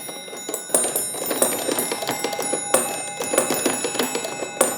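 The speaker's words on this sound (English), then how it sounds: "the ever popular guys in blue suits who kick bells" Mechanical figures in blue suits kick bells, ringing them repeatedly in an uneven sequence of bright metallic strikes, each chime lingering and overlapping the next, clear and close with no talking.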